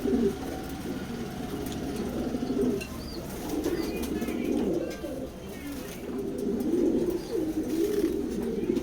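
A big male pigeon in a pigeon loft coos in repeated low, throaty phrases, close by, with faint wing flutters and other birds around.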